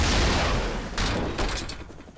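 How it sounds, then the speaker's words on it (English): Warning shots fired from an aircraft in an action film, a loud rapid burst of gunfire cracking over a dense, roaring background that fades slightly toward the end. "Fire a couple of warning shots. Fire now."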